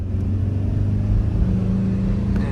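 A Hyundai Starex CRDI diesel engine hums low and steady right after a gear shift as its revs fall away slowly. The droning tone stays close and fairly loud with no talk.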